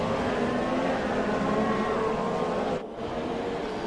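Formula One cars at the Brazilian Grand Prix in an F1 game whine past in a continuous, fairly loud engine drone. Near the end, a brief gap interrupts the sound before the engines carry on.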